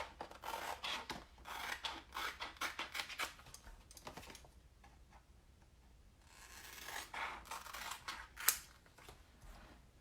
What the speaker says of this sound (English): So just take your scissors and cut on the cutting lines.